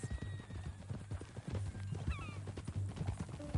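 Horse hooves clip-clop at a steady trotting rhythm in Red Dead Redemption 2, fairly close and moderately loud, with soft game ambience underneath.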